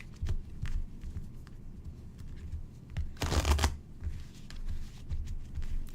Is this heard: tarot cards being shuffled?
yes